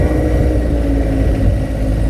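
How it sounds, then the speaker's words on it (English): A compact tractor engine runs steadily at a mid-range idle, a close, continuous low rumble with no starting crank heard, fitted with a 4-in-1 hydraulic bucket. "I'll go ahead and turn the tractor on."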